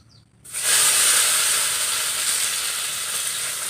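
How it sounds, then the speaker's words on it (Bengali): Boiled, cut potato pieces going into hot oil: after a half-second of quiet, a sudden loud hiss of frying rises and holds steady, slowly easing, with no talk. "এখন আমি আলুগুলিও ভেজে নেব।"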